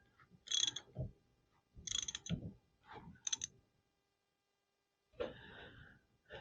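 A hex fitting is threaded by hand onto a Gori two-blade folding sailboat propeller, giving several short, close metallic clicks and scrapes in bursts, followed by a pause and one more burst.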